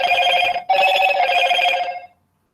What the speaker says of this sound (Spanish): voy a silenciar el teléfono